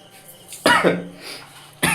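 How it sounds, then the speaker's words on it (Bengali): Harsh coughing is set off by fumes from dry red chillies frying in a kitchen. There are two close, loud bursts with a raspy throat sound between them. "শুকনো লঙ্কা ভাজছে, ওই জন্য খুব কাশি হচ্ছে।"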